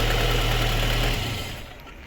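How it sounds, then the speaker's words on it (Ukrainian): A cold LADA Kalina car engine idling close by, a loud steady low rumble with a fine ticking texture that fades toward the end, no voices. "ось так працює наш двигун, повністю холодний ще."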